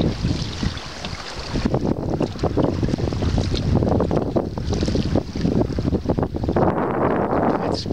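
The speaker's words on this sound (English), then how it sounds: "Right, we're sailing." Sailing boat under way on a beautiful day, with steady loud wind buffeting close to the microphone and water rushing and slapping along the hull throughout, with no voices.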